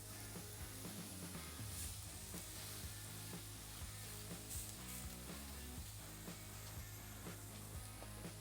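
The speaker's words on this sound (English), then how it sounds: "let's go ahead and get this thing seared off" Tri tip searing on upside-down grill grates of an Original PK Grill and Smoker, a steady, close sizzle and hiss of meat on hot metal running continuously with no talking.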